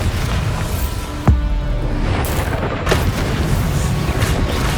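A Bombarda spell explosion in Hogwarts Legacy lands as a sharp crack followed by a deep rumbling boom, amid a dense, loud bed of game sound with another hit later.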